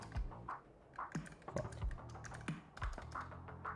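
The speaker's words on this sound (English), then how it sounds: "fat fingering the keyboard today." Someone types on a computer keyboard while coding, close-up key clicks in uneven bursts with brief pauses, each keystroke a sharp tap and a few heavier thumps mixed in.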